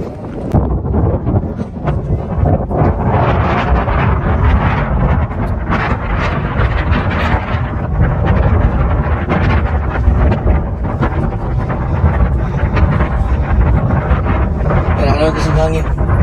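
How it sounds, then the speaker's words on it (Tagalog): Wind gusting on the Hanauma Bay Ridge Trail on Oahu, Hawaii, a loud steady roar buffeting the microphone for the whole stretch, with no clear speech over it. "Hangin."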